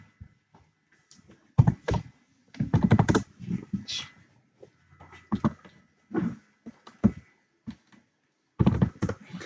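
Bursts of typing on a computer keyboard come in uneven clusters of clicks and thumps, close and moderately loud, separated by short pauses. No one speaks.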